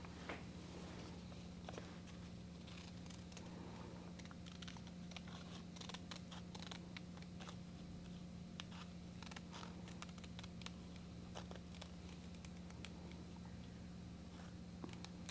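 Paper being cut with scissors during mixed media art journaling, a string of faint, irregular crisp snipping clicks over a steady low electrical hum.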